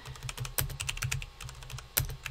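Fast typing on a computer keyboard, close up, with irregular bursts of clicky keystrokes and a couple of sharper, louder key presses, no voices.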